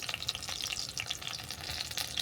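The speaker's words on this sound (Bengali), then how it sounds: "দেখো এই পকোড়াগুলো বাদামিগুলো ভাজা হয়ে গেছে এগুলোকেও নামিয়ে নেবো" Pakoras deep-frying in hot oil, giving a steady, dense crackling sizzle that holds at an even level throughout with no voices.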